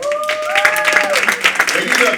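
Applause rises from a high school poetry slam audience, clapping mixed with voices and cheering across the whole short stretch.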